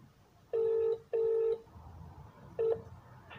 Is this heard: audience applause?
no